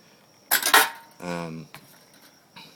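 An ultralight backpacking cook pot and its pot grabber clatter with two quick metallic clinks, then a brief ringing scrape, close and fairly loud, followed by faint handling noises.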